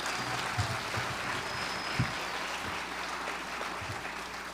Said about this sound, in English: I want to give Matthew Blades a round of applause for the amazing job that he's done once again.